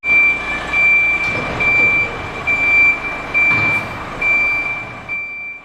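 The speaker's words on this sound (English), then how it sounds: "Cook is able to repark the truck, which, as you can see, is no easy feat" A truck's reversing alarm beeps steadily and repeatedly while the truck is reparked in a cramped garage full of vehicles, the engine rumbling low beneath it with no one talking.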